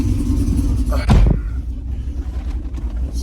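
Steady low rumble of a cammed Chevrolet Silverado or GMC Sierra truck engine idling in quiet exhaust mode, with a brief thump partway through and a continuous deep drone throughout.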